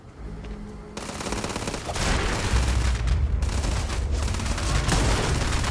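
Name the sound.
gunfire in video game Starfield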